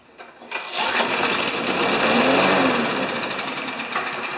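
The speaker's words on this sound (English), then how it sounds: "Let's just see if the wheels go round and round when I'm operating it." Poulan Pro lawn mower with a Briggs 190cc engine, in need of a carburetor clean, starts up after a short quiet moment and then runs loud and close with a steady, slightly rough drone.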